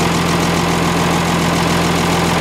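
An M35A2 military truck engine idles on used motor oil, a loud, steady low diesel drone with a constant throbbing hum and no breaks.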